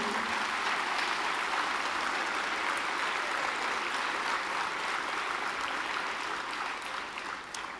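Sustained applause from the audience at a New Year's greetings ceremony in a French town hall, steady and dense throughout and easing slightly near the end.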